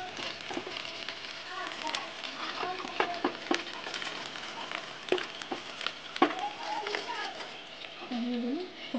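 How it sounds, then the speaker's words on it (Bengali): Okra tossed with spices in a pan, irregular scraping and clacking strokes over a light sizzle, near and moderately loud, with a voice talking in between. "সামান্য জিরে গুঁড়ো দিয়ে মিশিয়ে নেব।"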